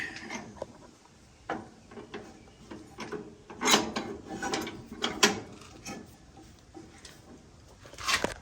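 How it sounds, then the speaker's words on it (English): A drive belt is pulled out from under a vintage Cub Cadet mower deck, producing irregular scraping, rubbing and ratcheting clatters with several sharper bursts of friction against the metal deck. "now we should be able to pull the belt out from underneath the mower."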